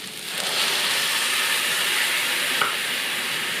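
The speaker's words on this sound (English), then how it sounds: "Then add everything else and fry for about 30 seconds, and then add 1 cup of water." Onions and spices frying in a pan for a restaurant-style lamb bhuna, a close, steady sizzle that swells after a quiet start and holds, with a brief clink partway through.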